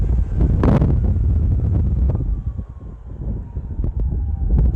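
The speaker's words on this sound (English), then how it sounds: "this is going to get a little windy" Wind buffets a microphone high on a 60-foot ropes course, a loud, continuous rumbling roar with gusty swells and no voices.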